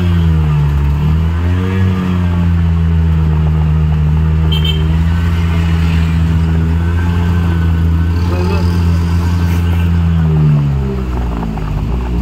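A car on a road near Arnala in Virar gives a loud, steady engine drone throughout, its pitch rising and shifting briefly near the start and again near the end as it moves and changes speed.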